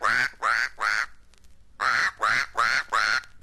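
A stage performer mimics a duck with seven nasal quacks, three in a quick row, a short pause, then four more, loud and close with nothing else heard.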